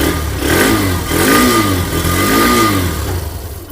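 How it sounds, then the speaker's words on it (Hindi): A 2025 Hero Xtreme 125R motorcycle engine running at idle, a steady close mid-pitched thrum with a slight rhythmic rise and fall, no voices. "तो ये रहा भाई इसका आइडल वाला कंडीशन"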